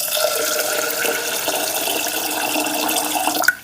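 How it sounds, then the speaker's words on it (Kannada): Tap water runs steadily into a pot of washed toor dal, a continuous close splashing fill that lasts throughout and cuts off with a small clatter at the end. "ಈಗ ತೊಗರಿಬೇಳೆ ಮುಳುಗೋಷ್ಟು ನಾನಿಲ್ಲಿ ನೀರು ಹಾಕ್ಕೊಳ್ತಾ ಇದ್ದೀನಿ."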